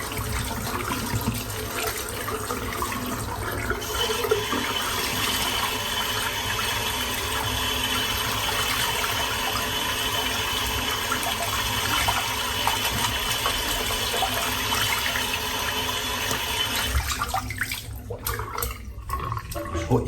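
Water from a tap splashes steadily into a sink while a shaving brush is rinsed under it, a close, continuous rushing that ends abruptly near the finish.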